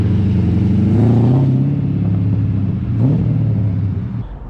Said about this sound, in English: Looks like we got more cars rolling in.